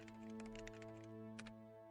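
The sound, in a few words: background typing sounds in video game Gabriel Knight 3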